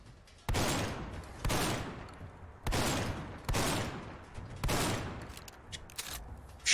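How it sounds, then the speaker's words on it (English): Bursts of automatic gunfire in Fallout 4, several loud close volleys separated by short pauses, with no talking over them. "Shooting at that guy, and he can't do anything about it."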